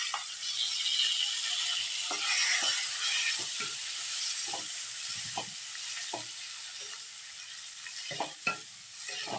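Chopped tomato frying in a pan with chana dal, a steady sizzle broken by repeated scraping stirs of the spoon, close and moderately loud, no talking.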